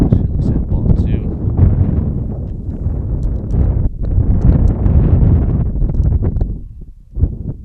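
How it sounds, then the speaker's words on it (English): Gust of wind sweeping across a softball field and lifting sand off the infield, a loud continuous roaring rush on the microphone, with a commentator speaking over it. "Let a gust of wind come through as it picks up some sand off of the infield."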